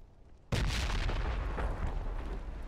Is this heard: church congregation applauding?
no